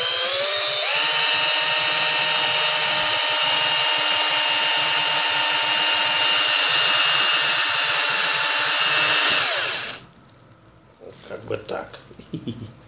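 A power drill whines steadily at high pitch for about ten seconds while drilling wood, then stops, leaving a few faint clatters.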